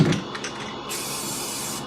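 An aerosol can hisses in a video game as a tag is spray painted, a faint short clatter first and then a steady airy spray.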